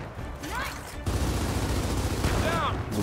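Steady loud gunfire in Gears of War 4 campaign combat, a continuous rattle of shots with brief whooshing sweeps, while voices talk faintly underneath.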